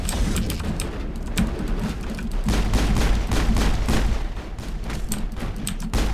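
Weapon blowing apart from a combat ability in the Mass Effect video game, heard as dense, continuous rattling bursts and crackling blasts amid ongoing gunfire for several seconds, loud and close.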